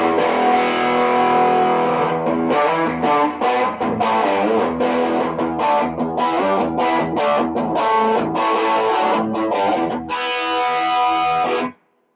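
An electric guitar with custom humbucker pickups and a rosewood fingerboard plays distorted, chunky riffs with choppy rhythmic stops, loud and up close for about twelve seconds before ending abruptly.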